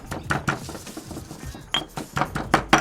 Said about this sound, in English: You really want to break the garlic up so you get that paste